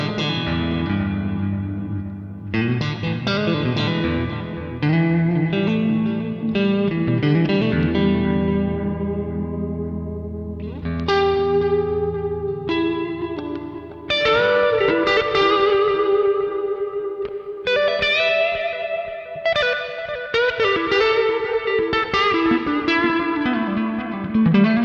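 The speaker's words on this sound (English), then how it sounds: "And then again, put the reverb back on." An electric guitar runs through a Sonicake Levitate delay and reverb pedal with the reverb engaged, clean picked chords and single notes ringing out with long washy tails and echoing repeats, played alone and fairly loud.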